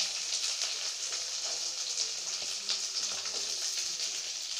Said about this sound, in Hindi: इसे 1 मिनट तक भूनना है।